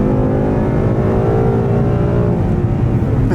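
Engine of a 2018 Ford Mustang GT with a 10-speed automatic roaring loud and steady at full throttle, a continuous close-up rumble with rising harmonic tones as it downshifts.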